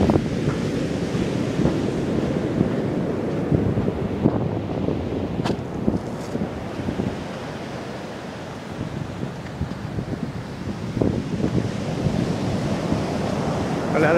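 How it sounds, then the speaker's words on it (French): Ocean waves break steadily on a shore during a walk in May, with wind buffeting the microphone in a continuous roar of surf that fills the whole stretch, no talking. "Là, c'est pas les plus grosses vagues."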